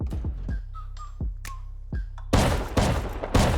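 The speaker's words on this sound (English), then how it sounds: "the shotgun trap is going to slap him to death" Shotgun traps fire in the video game Rust, opening with a series of sharp blasts with whistling pings between them, then three loud, dense back-to-back bursts near the end.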